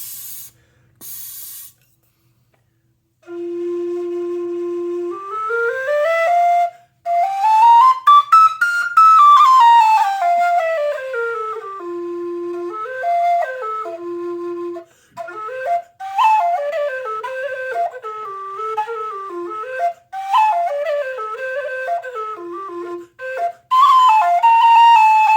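A low F whistle played alone, near and clear, running through a melodic tune with sliding, rising and falling notes and brief breaks between phrases.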